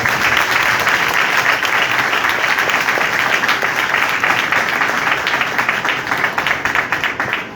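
A congregation at a live praise and worship gathering in Maka Colony, Lahore, claps in a long, steady, loud round of applause that stays dense and even throughout.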